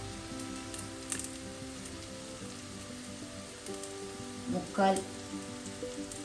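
Two tablespoons of Kashmiri chili powder hit hot oil for a Kerala-style red snapper fish curry, giving a steady, soft crackling sizzle throughout, with a brief spoken voice over it.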